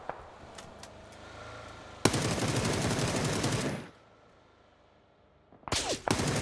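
Bursts of automatic gunfire from PUBG on the Erangel map: a loud sustained volley for about two seconds, silence, then another sharp burst of rapid shots near the end.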